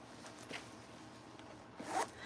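A clothing zipper rasps briefly a couple of times, close and fairly quiet, with a sharper pull near the end.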